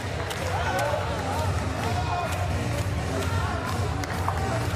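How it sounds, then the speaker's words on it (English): An arena crowd at a Paralympic powerlifting final applauds a newly crowned women's -55kg champion, a steady roar of clapping and hubbub with occasional sharp claps, heard beneath a commentator's voice. "Taking the applause of the Porte de la Chapelle Arena crowd."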